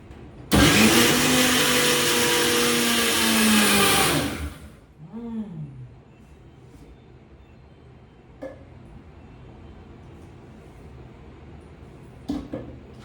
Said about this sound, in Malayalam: നമുക്ക് ഈ ഒന്ന് മിക്സിയിലിട്ട് അരിച്ചെടുക്കാം